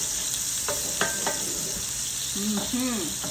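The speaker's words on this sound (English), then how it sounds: "I'm gonna throw it in here and get it sauteed up. Let's get that onion going." Diced Vidalia onion sautés in a pan with a continuous low sizzle, with occasional clatter and faint talk in the background.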